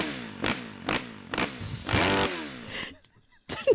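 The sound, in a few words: moped engine sound effect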